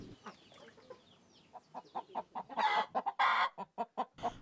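Native desi chickens cluck in a quick series of short, rhythmic calls, growing louder and busier toward the end, close by with no talk.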